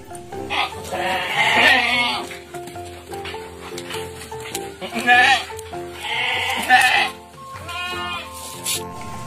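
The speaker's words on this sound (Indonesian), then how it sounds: "Yang ini kambing teman-teman." A goat bleating, several drawn-out, wavering cries spaced apart and heard fairly close, with quieter gaps and small incidental noises between them.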